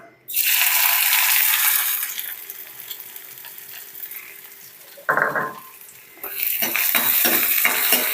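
Finely chopped onions hit hot coconut oil in a pan with a loud burst of sizzling that settles into a steady fry, broken by a few scraping stirs and clinks of a spoon against the pan.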